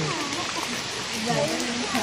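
Steady rain hisses down at a beach resort pool, a continuous soft wash of drops with no clear breaks.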